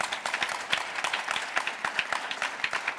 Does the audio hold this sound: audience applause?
yes